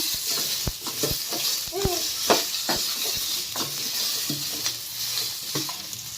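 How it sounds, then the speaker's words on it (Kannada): Tomatoes frying with garlic in a pan for nati koli bassaru: a steady broadband sizzle runs throughout, with scattered spoon scrapes and clinks from stirring, close and moderately loud, with no talk. "ಬೆಳ್ಳುಳ್ಳಿ ಹುರ್ಕೊಂಡು ಟೊಮೊಟೊ ಹಾಕ್ತಾಯಿದ್ದೀನಿ"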